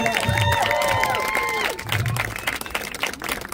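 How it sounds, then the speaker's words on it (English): Crowd applause and some cheering at an outdoor community gathering honoring Palestinians in Rhode Island, a steady wash of clapping that swells and then thins out as the clip goes on. "They all definitely deserve that round of applause and more."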